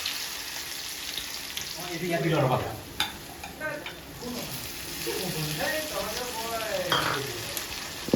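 Ginger garlic paste frying in hot oil in a home kitchen, a steady sizzle with stirring scrapes throughout, while a voice talks over it.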